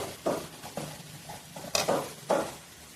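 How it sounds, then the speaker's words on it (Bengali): Potatoes stirred and fried in a spice paste, with a few distinct scraping strokes and clatters against the pan over a faint background sizzle, close by. "আলুগুলো মশলার সাথে একটু আরেকটু কষিয়ে জল দিয়ে দেব।"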